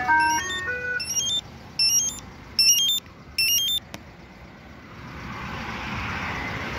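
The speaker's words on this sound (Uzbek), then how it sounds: "Zavod bo'lgandan pejerga xabar keladi." A car alarm pager sounds its notification after a remote engine start, with a bright melodic series of electronic beeps in short bursts, then a steady engine hum in the background, with no talk.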